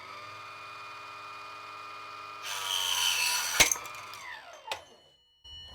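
Proxxon KGS 80 chop saw cutting thin PVC: a steady motor whine swells into a louder, rising cutting screech for a couple of seconds, then the blade spins down with a few clunks before falling quiet.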